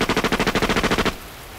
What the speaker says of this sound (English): he heard the first sounds of gunfire